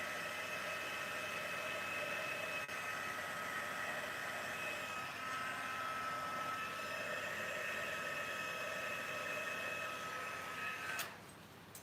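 A heat tool blows hot air over a craft project with a steady, close whooshing hum that runs unbroken for about eleven seconds before cutting off abruptly.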